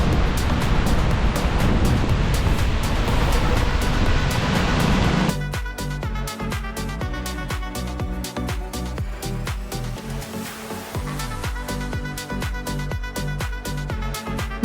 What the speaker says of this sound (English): Along this stretch we could see white caps out on the bay and at times the waves sprayed over the path.